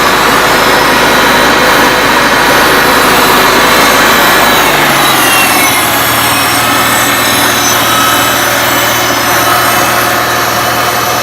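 1975 International Farmall Cub tractor engine running at full throttle, a loud, steady close-up roar that settles into a lower, even drone partway through, with no talking.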